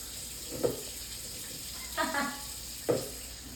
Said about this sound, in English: So yeah, I'm rinsing the fish.